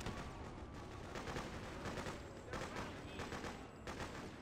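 AK rifle shots in the video game Freedom Fighters during a boat landing assault on Governor's Island, a rapid string of faint, muffled bursts repeating irregularly amid battle noise.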